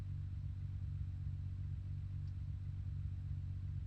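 A car engine idling or cruising at steady revs in the Assetto Corsa driving game, a constant low rumble, fairly quiet and even throughout with no talk.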